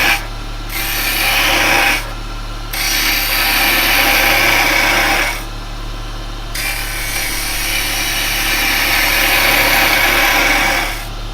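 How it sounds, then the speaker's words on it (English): A round carbide tool cuts yew spinning on a wood lathe, making a loud, close, hissing scrape over a constant motor hum. The cutting breaks off in a few short pauses and then resumes. "I'm going to take the rest away with the round carbide"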